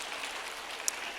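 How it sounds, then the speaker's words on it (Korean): Applause from a church congregation at an evangelism seminar, a steady, moderately loud patter of many hands clapping through the short stretch, with no talk over it. "박수 좀 쳐주세요"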